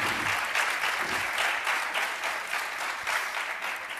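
Audience applause at an evening talk-show colloquium in Salamanca, a sustained even wash of clapping from a room full of people.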